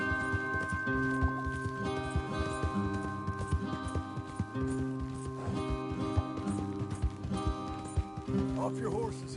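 Horses in Red Dead Redemption 2, hooves clip-clopping at a steady walk under sustained musical tones, with occasional louder hoof strikes and faint background sound.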